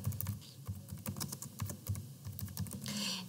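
Rapid, uneven clicking of fingers typing on a computer keyboard, with close, clustered keystrokes and brief pauses between bursts; no one talks.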